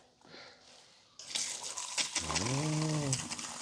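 Water from a meadow spring gushes and splashes into cups outdoors in winter at Harra, Thuringia, starting abruptly and flowing steadily, with a brief voice-like tonal sound partway through.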